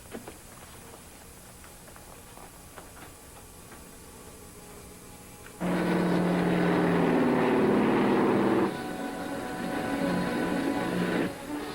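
A propeller airplane flies in an old movie serial. After a quiet stretch, a loud, steady engine drone cuts in abruptly, holds for a few seconds, then drops to a slightly softer, sustained hum.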